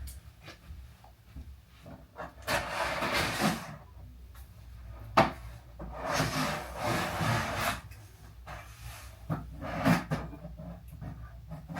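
Scissors cut and rip open the packaging around a newly delivered mirror: several rough, rasping bursts of cutting and rubbing, fairly quiet and close, separated by short pauses.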